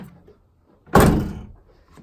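A 1970 Dodge Challenger door swings shut with a single solid thunk, loud and close, then a short fading ring and quiet.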